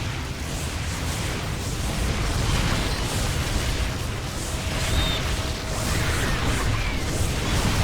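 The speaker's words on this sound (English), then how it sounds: "And we lost a photon cannon, unfortunately." Dense continuous rumble of explosions and battle noise from StarCraft 2 as a Protoss photon cannon is destroyed, a steady loud low-end roar with scattered whooshes throughout, no talking.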